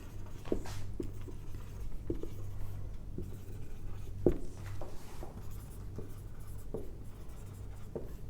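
A pen scratches across paper while notes are written during a physics lecture on magnetic poles and forces, with intermittent strokes and taps spaced over a steady low hum, close and without speech.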